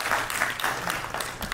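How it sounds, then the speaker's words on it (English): A short burst of audience clapping, steady and moderately loud, from a modest crowd at a medical convention session. "a big round of applause for all these people"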